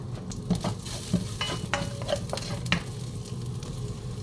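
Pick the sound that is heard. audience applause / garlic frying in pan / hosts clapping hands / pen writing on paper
garlic frying in pan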